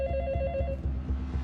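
A telephone rings in repeated rapid trilling bursts, near and fairly loud, with a low hum underneath and no voices.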